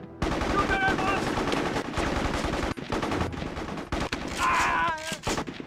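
Rapid automatic gunfire from the PS2 video game Mercenaries 2: World in Flames, dense bursts with sharp individual shots amid game effects, loud and close, with a short voice-like game sound near the end.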